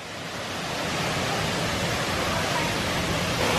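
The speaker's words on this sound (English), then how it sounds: "Look at that for a waterfall." Near Pattaya, a waterfall running full after lots of rain rushes in a loud, constant hiss close by, with no voices.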